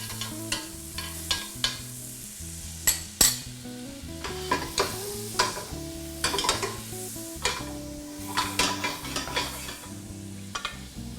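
Butter melts and sizzles in a hot pan, a steady frying hiss broken by repeated scraping and stirring strokes of a utensil against the pan, close and fairly loud.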